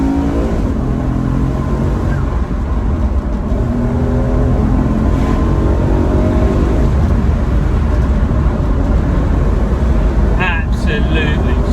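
A BMW M3 E93 with a V8 accelerating uphill, a loud sustained engine drone with rising rev sweeps from inside the cabin, and someone talking over it.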